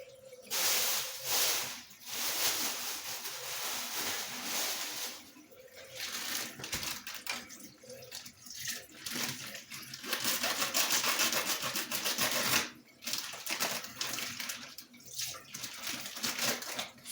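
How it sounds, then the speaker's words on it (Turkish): Cold water runs from a tap in a steady hiss and splash, fairly quiet and close, with short breaks and shifts in the flow. "Soğuk çeşmemiz akıyor."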